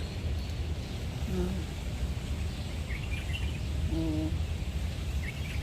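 Birds call faintly from a distance on a hotel lagoon grounds in Doha, a few short chirps and hoots over a steady hum of outdoor ambience.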